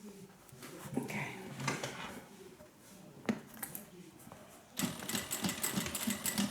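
A sewing machine back stitches the start of a sling bag seam, short stuttering bursts of stitching that build into a steadier close mechanical whir toward the end.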